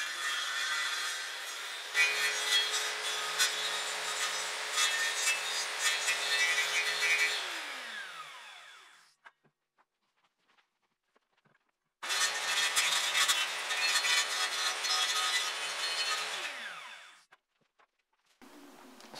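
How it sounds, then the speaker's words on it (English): A circular saw is run sideways across wood to flatten it during dummy making, giving two loud sustained rasping passes with a steady motor tone that winds down after each, separated by a short pause. "I am just going to move my circular saw sideways to flatten out this part here"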